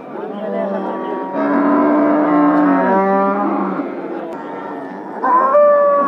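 A third-calf Holstein dairy cow moos repeatedly at a busy cattle market, long drawn-out calls rising and falling over several seconds with crowd murmur behind.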